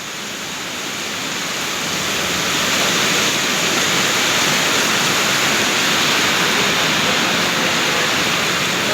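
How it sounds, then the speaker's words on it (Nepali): Steady, loud broadband wash of rainwater pouring and dripping through a room ceiling during heavy rain abroad, swelling slightly over the first few seconds and then holding constant, with no voices. "फेरि यहाँबाट पानी चुइरहेछ"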